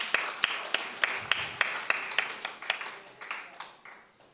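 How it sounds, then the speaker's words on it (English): An audience at a poetry gathering claps in a brief, modest round of applause, the sharp claps gradually thinning and fading out. "Let's give him another round of applause."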